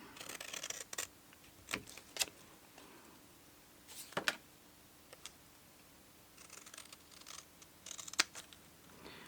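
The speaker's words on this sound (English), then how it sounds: "with a big pair of scissors." Large scissors snip through paper in a handful of quick, crisp cuts spaced irregularly, close and fairly quiet, with no one talking.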